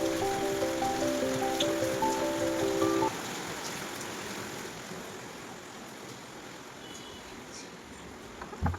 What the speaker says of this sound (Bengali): প্রচণ্ড বৃষ্টি হচ্ছে বাইরে